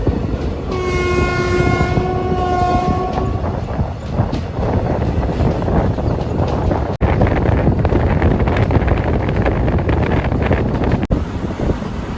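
A train horn sounds a long sustained blast as a train rolls into Cheranmahadevi station, followed by steady rumbling and clattering of the cars.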